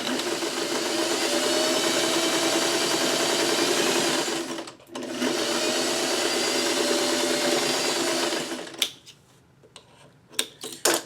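A sewing machine stitches fabric pieces together in a steady, loud mechanical whir for about eight seconds, broken by one short pause. It then stops, followed by a few clicks and handling noises.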